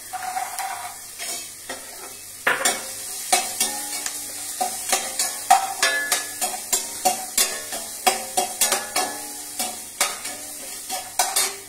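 Peas tipped into a hot pan and stirred, a sizzling bed broken by a long run of sharp, rhythmic spoon scrapes and clinks against the metal, close and clear.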